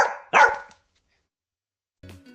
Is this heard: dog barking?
yes